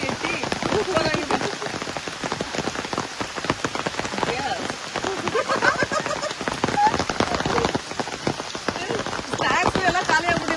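Heavy monsoon rain pours onto hard surfaces near Dudhsagar in a dense, unbroken patter of close drops, loud and steady throughout, with muffled voices faintly under it.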